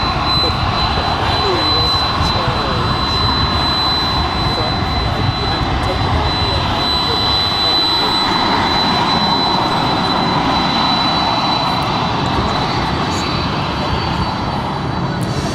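Jet airliners roar continuously at Dallas-Fort Worth International Airport, a loud, steady engine rumble with a high whine on top that holds throughout, close and powerful.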